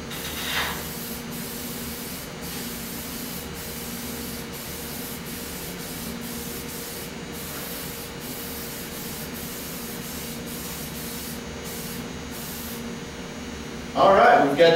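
A spray can lays a steady hiss of ceramic clear coat onto a BMX helmet, continuing for over ten seconds at close range. A louder burst comes at the end.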